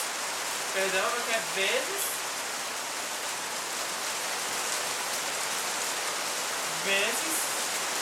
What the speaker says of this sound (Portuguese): Desculpa o barulho de chuva